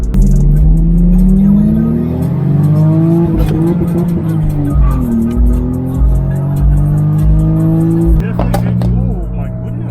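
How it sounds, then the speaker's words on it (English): Toyota Supra fitted with a new Blitz Nur-Spec R exhaust revs loudly nearby, the engine note climbing and falling through several rising sweeps, with voices talking over it. "New exhaust sounds so good."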